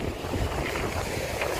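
Strong sea waves break against a rocky shore, making a dense, continuous roar of surf mixed with wind buffeting the microphone.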